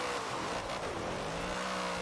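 A car drifting in Forza Horizon 4 during an online freestyle competition, with a steady, loud engine roar and sustained tire squeal held throughout the short stretch, and no talking.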